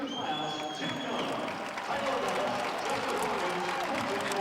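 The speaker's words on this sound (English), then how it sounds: "Nice round of applause from the crowd as well" A crowd at a men's college basketball game applauds in a steady, broad wash of clapping while a commentator speaks over it.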